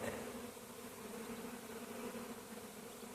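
Honeybees buzzing in an opened beehive, a steady dense hum from many bees close by, faint and continuous with no talk.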